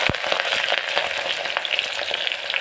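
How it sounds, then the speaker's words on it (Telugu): Sliced onions fry in hot oil for a vegetable biryani, giving a steady close crackling sizzle with scattered sharp pops and the occasional stir. "వీటిని బ్రౌన్ కలర్ వచ్చేంత వరకు ఫ్రై చేసుకోవాలి"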